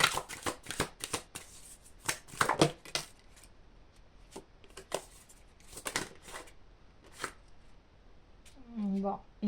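Tarot cards being shuffled in sharp, repeated riffles and flicks, close and fairly quiet, in irregular bursts, with a voice talking briefly near the end.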